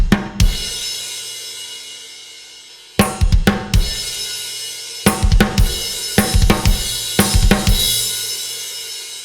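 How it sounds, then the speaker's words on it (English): A rock drum kit at the end of a song, with rapid 30-second-note kick drum bursts alongside snare hits and a washing ride cymbal, loud and close, in repeated clustered flurries after a ringing opening crash. "we are starting to get into some 30-second notes, and this is going to be on the kick drum"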